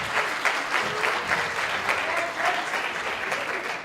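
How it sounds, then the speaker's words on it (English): A classroom group claps after the first round of a fishing game, a short burst of steady applause from a modest crowd, fairly close and even in loudness. "So, alrighty, first round of applause"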